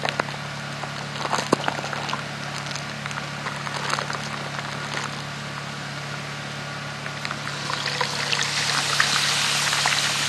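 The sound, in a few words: milk being poured into sausage gravy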